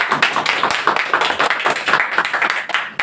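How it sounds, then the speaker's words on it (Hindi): Loud, dense applause from an audience at a Hindi literary gathering honouring a poet, steady rapid clapping filling the whole moment close up. "मैं चाहूंगा कि शेखर तिवारी जी की इस रचना के लिए एक बार जोरदार ताली"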